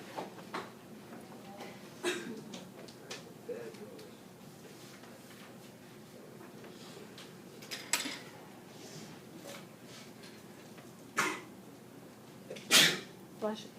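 A single sharp sneeze bursts out near the end, following a stretch of quiet room noise with scattered soft clicks and faint talking.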